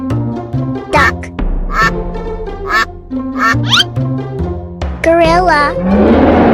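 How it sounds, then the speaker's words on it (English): Cartoon-style duck quacks sound in quick, loud bursts, mixed with short, bright musical and voice-like sounds in a busy children's animation. A harsh, noisy sweep closes it. "Duck."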